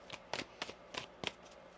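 Tarot cards shuffled by hand make five or six quick, crisp riffling bursts in a loose rhythm, close by and quiet, with no talking.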